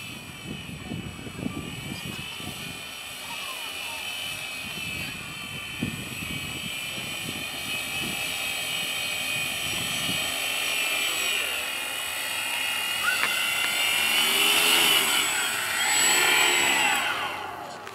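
A Parkzone P-47 radio-controlled model airplane flies on its downwind leg, its motor a steady buzzing whine that rises and swells as it passes closer near the end.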